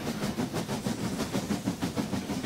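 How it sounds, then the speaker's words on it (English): A steam locomotive chuffs in a steady rapid rhythm, loud and close, each puff a broad hissing burst repeating evenly with no voices. "Steam engines make a chuffing sound like this."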